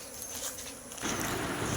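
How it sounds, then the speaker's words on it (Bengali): Crickets in a jungle keep up a dense, continuous buzz. A steady high chirring hangs over a noisy outdoor background, and no voices are heard. "জঙ্গলে ঝিঝি পোকার ডাক শুনে মনটা একদম ভালো হয়ে গেল"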